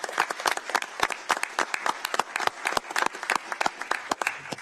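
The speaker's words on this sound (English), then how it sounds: "Now's the appropriate time for applause." Applause from a small crowd at a county board of commissioners meeting, a steady patter of individual claps close and fairly loud throughout, with faint voices mixed in.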